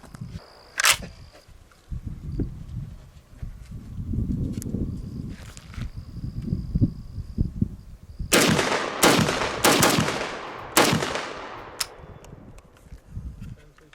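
C-308 battle rifle fired from a bench at an outdoor range: a quick string of five loud, sharp gunshots with ringing decay near the end, preceded by rustling and handling noise and one earlier crack.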